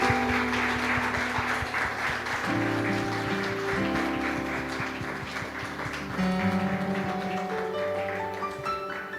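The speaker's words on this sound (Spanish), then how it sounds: "Le damos un aplauso a nuestro Dios" A church congregation applauds in praise to God, a rain-like wash of clapping carried over steady music with held keyboard or organ notes throughout.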